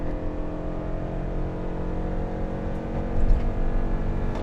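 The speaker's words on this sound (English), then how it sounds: "We should probably do a launch control." A 2024 Toyota Sienna Limited Hybrid with a CVT pulling hard from a launch control start, heard from inside as a steady droning engine hum that swells slightly near the end.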